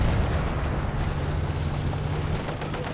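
Heavy rumbling battle sound from Company of Heroes 2 where grenades go off, a loud continuous low roar of blasts and gunfire running throughout with no clear separate bangs.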